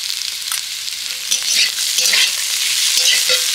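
Spiced potato filling with cumin and coriander powder, salt and chopped coriander leaves stirred and fried in a pan, a steady broadband sizzle with intermittent scraping stirs, close and fairly loud, no talking.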